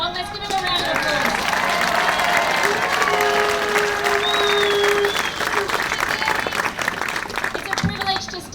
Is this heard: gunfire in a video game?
no